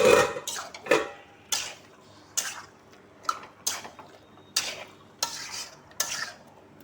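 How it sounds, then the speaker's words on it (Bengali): A spoon stirs chicken and potatoes in a cooking pot in about ten sharp scraping strokes with brief pauses between them. A faint sizzle sits underneath, close and fairly loud, with no talking. "এবার মাংসটাকে এর মধ্যে অ্যাড করে দিচ্ছি। ধুয়ে রাখা মাংসটা এর মধ্যে অ্যাড করে দিলাম। তার সাথে দিয়ে দিচ্ছি আলুগুলোকেও। ভালো করে এটাকে কষিয়ে হতে দেবো।"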